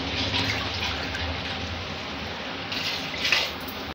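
Water is poured into rice for cooking bisibelebath, 4.5 glasses in all, making a steady, moderately close splashing flow with a brief louder gush near the end, with no speech.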